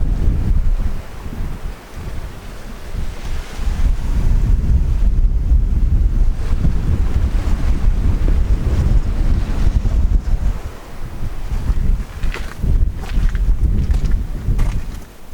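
Strong, continuous cold coastal wind in Shetland roaring over the microphone, mixed with the wash of surf, loud and unbroken for the whole stretch.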